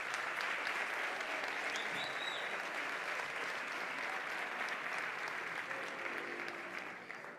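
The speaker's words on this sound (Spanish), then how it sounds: "fuerte aplauso." A strong round of audience applause for a saxophonist at a sports awards gala in Béjar, a dense continuous wash of many clapping hands that stays loud and steady before tapering slightly at the end.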